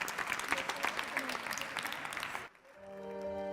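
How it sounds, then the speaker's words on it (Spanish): Loud audience applause at a cultural equality event, dense clapping and crowd noise that cuts off abruptly partway, followed by a quiet musical tone. "Un fuerte aplauso para todos ellos."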